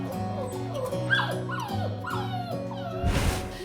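A young guide dog puppy whimpers and yips in a string of high, wavering cries close up, with a brief rustling burst near the end.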